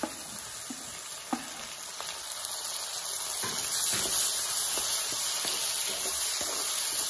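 Chopped tomatoes sizzle with onions in a hot pan for tomato chutney, a steady close frying hiss with faint scattered pops and stirring clicks, no voices.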